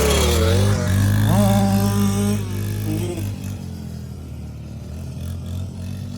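A quad or dirt bike engine revs loud and close with the throttle held nearly wide open, its pitch rising and falling over a steady roar.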